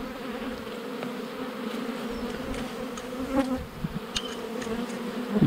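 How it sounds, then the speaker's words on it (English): Honeybees buzz around frames at an open beehive, making a steady, dense drone close by. Faint clicks from handling the frames come through now and then, and no one speaks. "These bees are out foraging"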